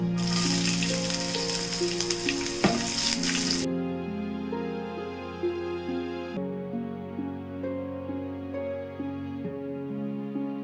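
Chopped shallots and green chillies sizzle in a hot pan while beetroot pachadi is cooked for an Onam sadya. The sizzle is loud and hissing at first, then softens, with steady music running underneath.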